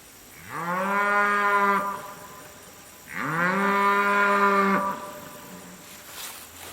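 A cow lets out two long, loud moos in a row, each a deep drawn-out bellow lasting over a second, with a short quiet pause between and a faint background hiss.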